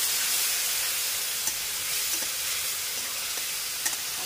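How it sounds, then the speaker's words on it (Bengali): Stuffed bitter gourds fry steadily in hot oil in a kadai, giving a dense, continuous close sizzle with a few faint clinks and stirring knocks. "এগুলোকে ভাজা করতে হবে ভালো করে"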